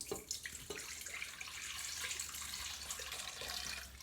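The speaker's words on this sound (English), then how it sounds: "So I've gotten a cup and a half of warm water here that we're going to pour into this." A cup and a half of warm water pours into a mixing bowl for soft pretzel dough, a faint continuous splashing stream with no talk.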